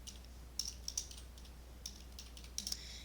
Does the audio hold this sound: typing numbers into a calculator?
yes